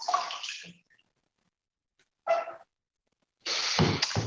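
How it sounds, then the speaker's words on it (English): Clean water poured over bare feet in a foot-soaking basin, in three separate splashing bursts: a longer one, a short one, then a heavier final pour, close by, with quiet gaps between. "现在呢，我们用干净的水把双脚冲一下。"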